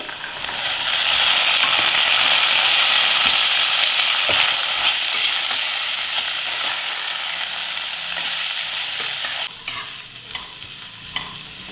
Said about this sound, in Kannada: ಈರುಳ್ಳಿ ಕೆಂಪಗಾಗಿದೆ, ಈಗ ತರಕಾರಿ ಹಾಕೊಂಡ್ಬಿಡೋಣ. ಕಟ್ ಮಾಡಿರೋ ಕ್ಯಾರೆಟು ಬೀನ್ಸ್ ಹಾಕೊಳ್ಳೋಣ, ಜೊತೆಗೆ ಹಸಿ ಬಟಾಣಿ.